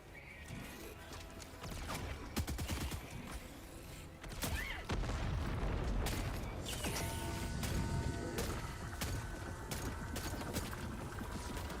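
Heavy volley weapon fire in a video game, a dense run of loud blasts and crashing impacts that swells after a brief lull and keeps pounding steadily to the end.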